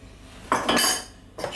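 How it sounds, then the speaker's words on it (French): Eggs beaten for an omelette with a utensil clinking against a bowl, a few brisk bursts of whisking and clatter close up. "Je commence par battre mes œufs en omelette."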